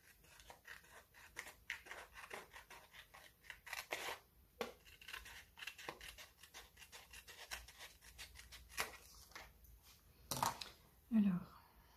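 Scissors snipping paper for a craft project, with soft repeated cuts, rustling and light handling sounds close by at low level.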